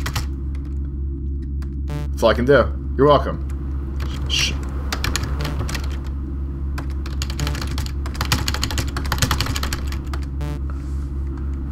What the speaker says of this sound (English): I'm typing random letters.